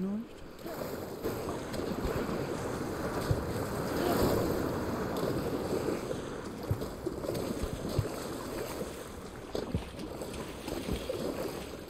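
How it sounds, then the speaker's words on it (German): Character swimming through water in the video game Horizon Forbidden West, a steady wash of splashing and sloshing water with wind-like noise, continuous and moderately loud throughout. "jetzt bin ich einmal rumgeschwommen"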